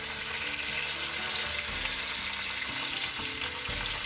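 Bay leaves sizzling in a little hot oil, salted to stop splattering, for a pumpkin curry: a dense, continuous hiss of frying with a low steady undertone, close and fairly loud throughout, with no voices.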